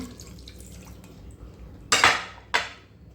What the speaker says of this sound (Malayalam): ഈ 1 കപ്പിന് ഞാൻ വെള്ളം ഒഴിക്കുന്നുണ്ട്